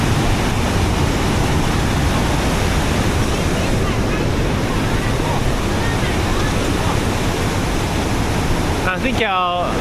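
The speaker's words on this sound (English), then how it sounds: "this is the top of the waterfall, eh?" Roaring water at the top of a waterfall in Furong Ancient Town, a loud, continuous dense rush that fills the whole clip, with a brief electronic-sounding warble right at the end.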